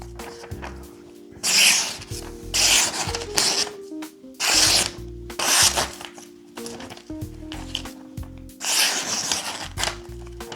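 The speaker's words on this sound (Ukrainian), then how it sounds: "Зараз перевіряю заводське загострення ножа на папері" A folding knife slices through paper, giving several separate rasping, scratchy cuts in bursts of a second or so, up close against a quiet background hum.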